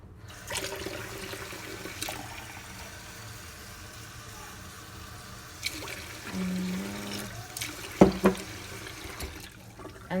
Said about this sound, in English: And then I'm gonna put some water.